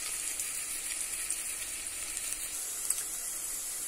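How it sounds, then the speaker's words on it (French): Onion frying with cardamom in olive oil gives a continuous close sizzle, a steady hiss with occasional small pops and no voices. "Et tout ça, je fais revenir avec de l'huile d'olive"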